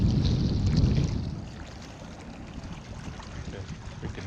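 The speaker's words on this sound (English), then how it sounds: "the freaking motor right there" Old outboard motor on a small fishing boat running on a lake, a low rumbling drone with wind buffeting the microphone, louder at first then easing to a steady hum.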